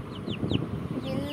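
A pet chicken, a hen kept in a home alongside a cat, clucks softly in short repeated bursts over a murmur of nearby household sound, with faint chirpy calls overhead.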